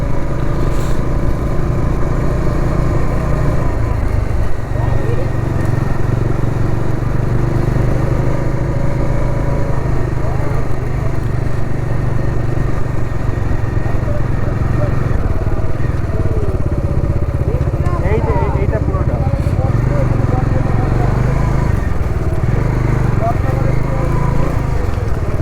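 Steady motorcycle engine drone while riding a rough, lightly off-road road toward Purulia, continuous and close with wind and rattle throughout.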